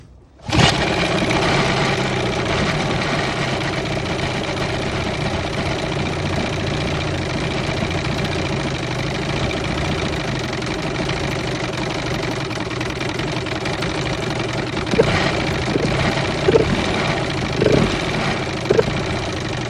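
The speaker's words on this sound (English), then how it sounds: "There's a good racket coming on up in the flywheel area." An Evinrude 18 hp outboard motor, restarted after 24 years, runs steadily with the throttle opened up. The engine drone is loud and continuous, with a rattling racket from the flywheel area, and a few sharper knocks come near the end.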